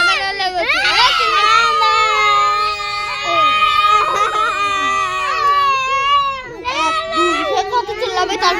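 A child wails and yells loudly and close by, a long sustained cry with rising and falling pitch, breaking into sobbing shouts toward the end.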